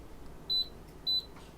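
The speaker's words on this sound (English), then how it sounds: "You probably hear it beeping." A Siglent SDS1104X-E oscilloscope gives two short, high electronic beeps in quick succession, faint over a quiet background hum.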